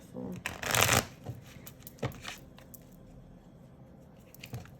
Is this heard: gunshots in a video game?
no